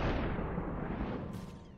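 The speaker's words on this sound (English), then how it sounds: "Oh, he's shooting at me." Gunfire in the video game SuperHot, a dense, booming burst that sustains loudly for under two seconds before tailing off, with no talking over it.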